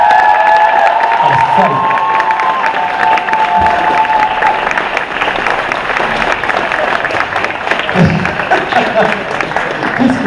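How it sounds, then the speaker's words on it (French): A crowd at an anime convention cosplay contest applauds loudly for a cosplayer, with cheering and whoops layered over sustained clapping and a few shouted voices near the start. "Et je vous demande d'applaudir très fort Lexi Faronstrich"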